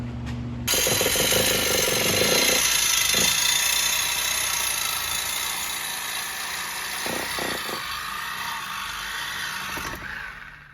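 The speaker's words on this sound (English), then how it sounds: "Spencer got the Sawzall and we're gonna get to it." A Sawzall reciprocating saw cuts through the exhaust on an FC RX7 with a loud, continuous buzzing rasp, close up, that runs steadily for about ten seconds before stopping.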